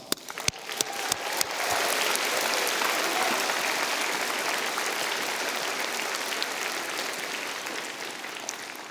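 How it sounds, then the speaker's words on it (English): Audience applause fills a graduation ceremony for a mathematics faculty, starting with a few scattered sharp claps and swelling into steady, dense clapping from a large crowd that holds for several seconds. "One more round of applause."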